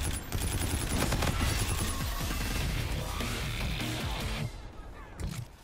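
Full-auto video game gunfire rattles in long, rapid bursts, loud and close, fading slightly toward the end with a few sharper impacts.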